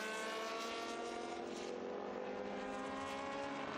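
A historic Porsche 911 race car at Estoril sounds as a sustained, rich engine note that carries steadily through the pass, loud and fairly close with slight pitch drift.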